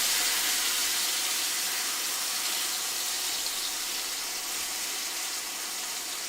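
Hot oil spatters and sizzles loudly and steadily for the whole stretch while cooking a keto Thanksgiving dish, a dense hiss with no voices over it.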